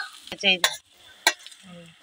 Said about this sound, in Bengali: পেঁয়াজের সাথে আদা রসুনও দিয়ে দিয়েছি।